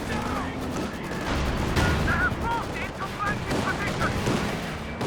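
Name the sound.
tank and flak gunfire in a strategy video game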